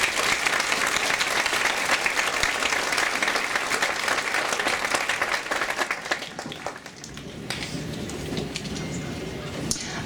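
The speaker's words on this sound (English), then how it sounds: "Please join me in a round of applause for all those who have worked with and for the students" Sustained loud applause from the audience at a 2017 high school commencement ceremony for John H. Glenn High School in Elwood, clapping steadily for several seconds before thinning out and fading toward the end.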